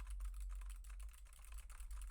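Keys on a Silvercrest computer keyboard, about a year old, click steadily in quick, even typing, close and fairly soft with no talking.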